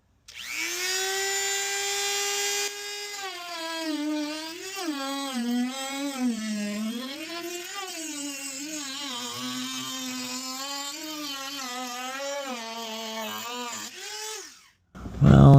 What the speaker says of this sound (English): I'm going to cut on the far side of the tape over here, and I'm going to try not to cut into the tape, just beyond it.